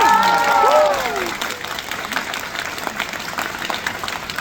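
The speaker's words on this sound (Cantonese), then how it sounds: "我哋俾啲掌聲" A concert audience in Guangzhou applauds loudly after a song, with a held note fading at the start, then the clapping thins into scattered claps that continue to the end.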